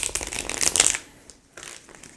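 Tarot cards being shuffled during a Hindi love reading, a close, brisk riffle of papery flicks for about a second that trails off into quieter, scattered card rustles.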